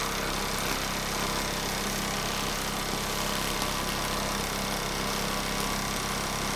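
A Mamod MM2 model steam engine runs steadily, a continuous near mechanical whirr and hum with a faint rattle from its unbalanced vibration, no voices over it.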